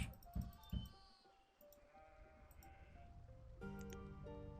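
Sheep bleat in the city-building video game Banished: a couple of short bleats near the start, then a fainter one, over steady game ambience and soft tonal music that swells toward the end.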